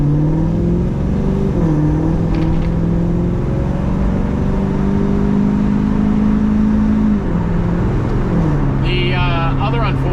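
A Chevelle's engine hums through the cabin while driving with the windows closed, a steady, fairly muted drone that rises and falls with shifts in speed.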